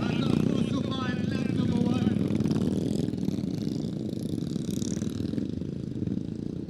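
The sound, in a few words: dirt track motorcycles racing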